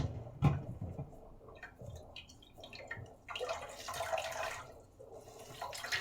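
Coconut milk squeezed by hand through netting drips and trickles into a container, with soft wet splashes and a brief louder gush of liquid, quiet and close.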